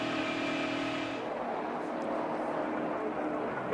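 A NASCAR race car engine at the 2009 Pennsylvania 500, suffering an internal engine problem, roars steadily and loudly, blending into dense crowd and track noise throughout.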